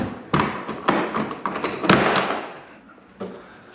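Lockable latched lid of a Polaris RZR storage box being opened, a run of close, loud plastic thumps, knocks and clatters with a final softer bump, no talk.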